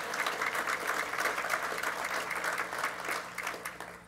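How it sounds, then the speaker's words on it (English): A room full of people applauding steadily, a dense wash of clapping that holds for several seconds and begins to fade at the end. "So would everybody give the spouses a round of applause for their leadership and my First Lady, Susan Hutchinson."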